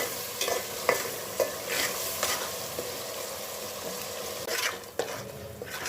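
Ginger garlic paste fries in a wide pan, sizzling steadily while a spoon scrapes and stirs it in irregular strokes close by.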